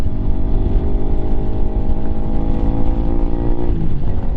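A Lifan KPM 200 motorcycle engine on the move, a steady loud droning hum with a strong low rumble and some wind buffeting. The pitch drops slightly near the end.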